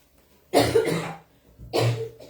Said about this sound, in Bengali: সরি আমার বাসায় সবার কাশি।